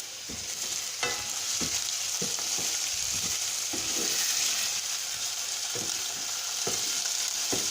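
Garlic fries in a hot pan with a continuous close sizzle, broken by regular sharp ticks and taps from stirring against the pan, with no voices.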